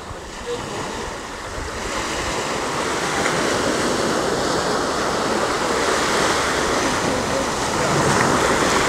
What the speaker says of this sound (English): Zoom down the beach here.